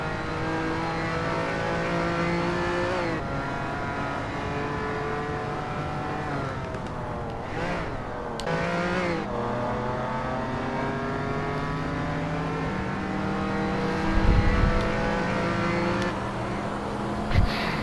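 Cars race in a Hot Wheels video game, engines droning and shifting pitch continuously with revving surges and brief impacts, loud and steady throughout with no speech.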